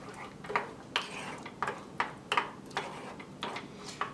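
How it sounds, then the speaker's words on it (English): A spoon scrapes and knocks against a bowl while a dish laced with hot sauce is mixed, a run of sharp, evenly spaced clinks close by with a quiet background. "Give that a good mix."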